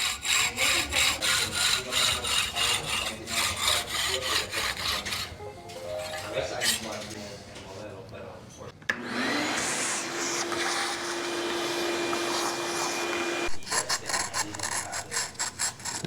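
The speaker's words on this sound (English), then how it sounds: "We're going to sand it." A carbon bicycle frame has its edges sanded by hand while they are lightly chamfered: steady, close rasping strokes in a fast rhythm, then a long continuous grinding rub, then more rapid back-and-forth scraping.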